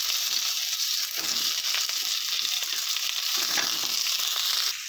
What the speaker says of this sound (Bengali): কেটে রাখা আলুটা দিয়ে দিচ্ছি তো আলুটা আমি দু মিনিট ভাজার পরে দিয়ে দিচ্ছি কেটে রাখা স্কোয়াশগুলো